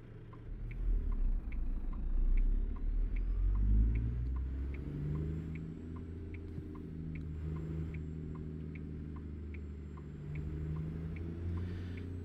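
A long semi truck hauling a propane trailer pulls away, its engine rumbling low and steady with rising revs, while a regular ticking of the turn signal runs throughout, heard from inside the cab.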